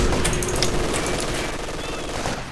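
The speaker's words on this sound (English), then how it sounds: "So that MG42 doing lots of suppression." An MG42 machine gun fires in Company of Heroes 2, laying down a rapid, continuous rattle of shots over the battlefield din, with a voice faintly underneath.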